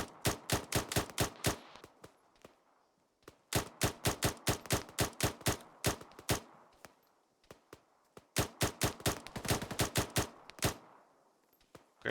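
Automatic gunfire in Arma 3 comes in three sharp, rapid bursts of many shots each, separated by brief pauses with scattered single shots and faint echoes, fairly close and crisp.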